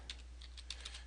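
Typing on a computer keyboard, a quick faint run of about eight light key clicks in a quiet room with a low steady hum underneath.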